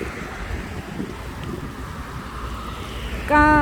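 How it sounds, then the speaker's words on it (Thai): Cool wind blows steadily across an outdoor natural setting, a broad rushing noise that holds for several seconds before a brief tonal sound cuts in at the end. "ลมพัดเย็นๆ"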